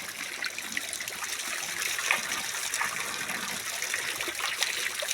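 Soft, continuous trickle of water at the Sammakka Sarakka shrine on Chilakala Gutta hill, with a hissy splashing texture, steady and fairly close, with no talking.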